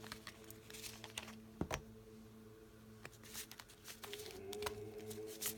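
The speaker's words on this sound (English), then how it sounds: "let's take a look at how they shuffle." A thick tarot deck is shuffled by hand, giving soft, quiet riffling and card-slapping patters in irregular bursts over a low steady hum.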